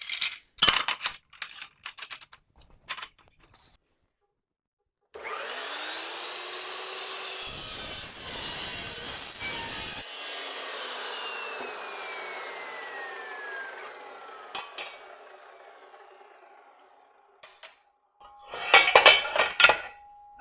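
A metal-cutting saw makes a miter cut through metal stock, a steady grinding, rasping cut lasting about twelve seconds with a falling whine, set between short clinks and handling noises, with a burst of clatter at the end.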